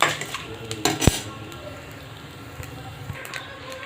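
Red chillies and asafoetida roast in a pan while a utensil scrapes and clinks against the metal in a few quick, close knocks, followed by quieter stirring.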